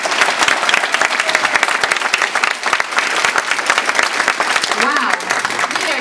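A large audience at a Toastmasters district conference claps to welcome a speaker. The applause is loud, dense and sustained, filling the room for several seconds without a break.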